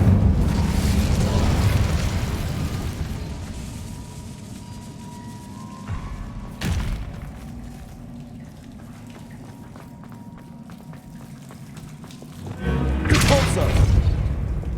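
Incendio fire spell cast in Hogwarts Legacy, a loud booming burst at the start that fades into a low rumble, with a second sharp hit midway and another heavy blast near the end.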